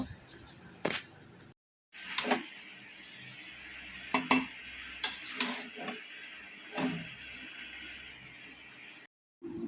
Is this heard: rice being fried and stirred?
yes